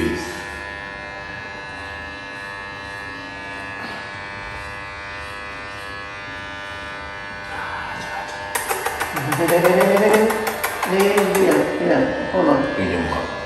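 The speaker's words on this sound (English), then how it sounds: "so the shaving begins" Electric clippers buzz steadily while shaving a baby's hair, a constant close whine, then a baby cries loudly in bursts over the hum.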